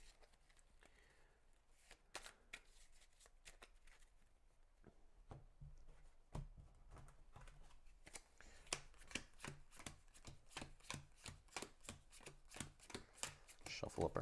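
Spirit Island major power cards being shuffled at a tabletop, a rapid run of crisp riffling clicks that grows denser and louder toward the end, with no one talking.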